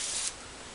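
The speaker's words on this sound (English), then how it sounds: "And you just spray it in your hair" Garnier Fructis Sleek and Shine Hold ultra strong hairspray sprays into hair in one short, close hiss that cuts off sharply and leaves a faint fading tail.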